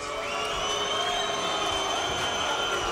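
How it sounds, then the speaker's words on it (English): Arena crowd at a combat sports event booing after a bout is ruled a no contest due to an accidental headbutt, a dense sustained roar of many voices filling the whole stretch at high volume. "Of course, you hear booing"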